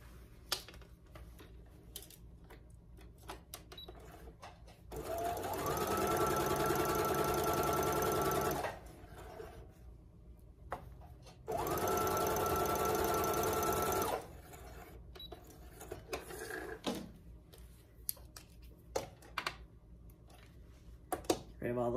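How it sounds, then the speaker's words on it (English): A sewing machine stitches across the bottom of a coat pocket for the Grainline Studio Yates coat in two loud bursts of several seconds each, with quiet handling and soft talk in the gaps. "I'm going to stitch across the bottom."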